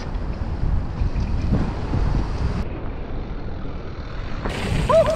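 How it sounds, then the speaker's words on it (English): Gusty wind buffets a microphone outdoors at a mountain bike trail, a loud, continuous low rumble that swells and dips for several seconds with no talking. "This bloody wind."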